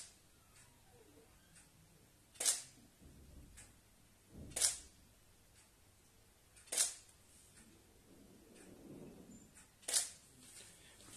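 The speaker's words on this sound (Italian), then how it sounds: "Ora andiamo a fare qualche scatto e vediamo cosa esce." Camera shutter firing for water drop photography, four sharp isolated clicks spaced a couple of seconds apart in a quiet room, with faint soft handling noise between shots.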